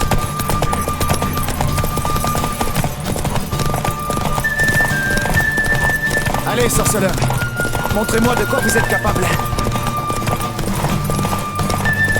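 Clip-clop of a horse galloping in a race within a video game, rapid rhythmic hoofbeats with occasional whinnies under game music and French-speaking character voices.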